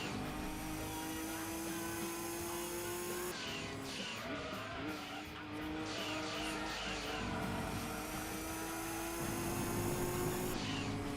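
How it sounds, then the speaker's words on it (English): Rally car engine droning steadily through a Gran Turismo 2 race, with tire squeal and skidding rising through the middle of the run; the engine note holds loud and near, with a faint voice now and then. "Rally car."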